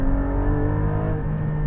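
A Porsche 718 Cayman GT4's naturally aspirated engine, sports exhaust and auto blip switched on, revs hard toward 8,000 RPM with a loud, steady, harmonic-rich howl that fills the whole stretch.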